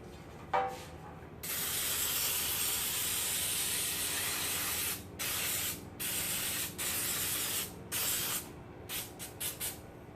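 A baking spray can sprays onto a pan in a long continuous hiss, then several shorter bursts, close and fairly quiet, with no voices.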